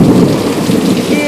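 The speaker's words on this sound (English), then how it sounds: "Can you hear that thunder?" Heavy rain pours down during a flash summer thunderstorm in Houston, loud and continuous, with a deep rumble of thunder rolling underneath.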